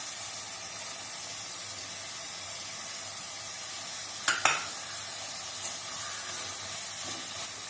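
Spices, curd, chilli powder, biryani masala, coriander powder and mint being stirred and sautéed in a pan for mushroom biryani, a steady low sizzle with a few louder scraping stirs midway, no talking.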